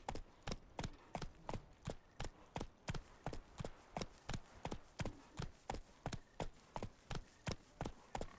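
A horse's hooves clip-clopping along a path in The Witcher 3, a steady even trot of crisp, moderately loud hoofbeats repeating about three times per second without pause.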